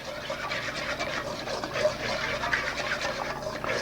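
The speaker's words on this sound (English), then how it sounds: "Mix all that in." Eggless pancake batter being stirred in a bowl, a soft, even, wet swishing and scraping that continues steadily at close range without pauses, no voices.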